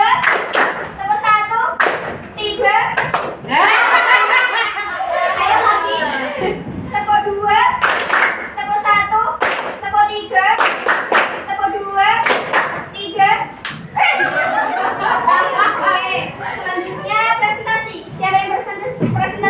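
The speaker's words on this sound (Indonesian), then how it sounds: "Tepuk 1, tepuk 2, tepuk 3, 1." Rhythmic group clapping by students in a school classroom, sharp claps in repeated counted bursts, close and loud, with children's voices talking and chanting between and over them.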